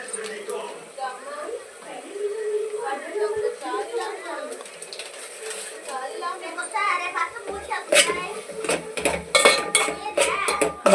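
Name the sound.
mixing tamarind and turmeric into tomatoes in a pan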